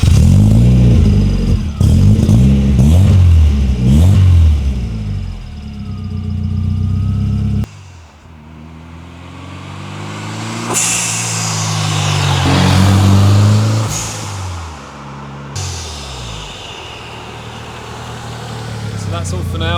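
Ford Escort RS Cosworth Group A rally car engine revving close by, rising and falling in loud bursts over a steady rumble, with a change of position partway through.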